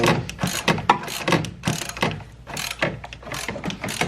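A ratchet wrench tightens a big bolt on an A90 Supra downpipe, loud rapid clicking bursts in uneven repeated strokes, close up, with no speech.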